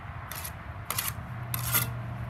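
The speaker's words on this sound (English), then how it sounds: "Now scrape up the extra mud and use it for your next brick." A steel trowel scrapes excess mortar off a freshly laid brick in three short, rasping strokes, close and fairly quiet, with brief pauses between them.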